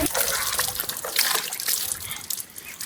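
Water splashing and sloshing during a bath, irregular close splashes and trickles throughout, with a voice talking faintly underneath.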